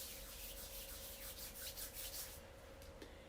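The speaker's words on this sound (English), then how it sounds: "And rub the hands together." Hands with a drop of peppermint oil rub together close up, a soft, continuous dry swishing friction for a few seconds, faint and without speech.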